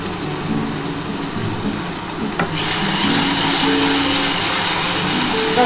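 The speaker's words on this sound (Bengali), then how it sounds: "ভালো করে মশলাটা একটু কষিয়ে নিতে হবে" Spiced masala with red chilli powder sizzles in a pan for an egg and capsicum curry, a steady frying hiss that swells to a louder, brighter crackle about halfway through and holds there.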